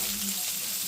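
Onions sizzle steadily on a hot surface while smash burgers cook, a dense, even hiss that is fairly close and runs through the whole second with a low hum beneath.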